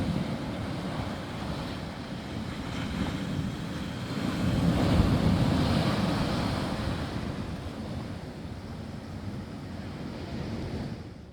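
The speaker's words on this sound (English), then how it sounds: "the sound of the ocean crashing on rocks or on the beach" Ocean waves crash on rocks or a beach in a continuous rushing wash, swelling into a louder surge around the middle before easing back to a steady roar.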